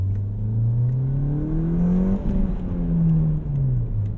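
A 240 hp Ford Fiesta ST with 240,000 miles revs hard near the listener. Its engine note climbs steadily, hangs at the top for a beat, then sags slowly as the revs fall, with no voices over it.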